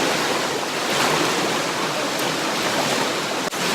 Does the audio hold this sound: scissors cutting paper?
no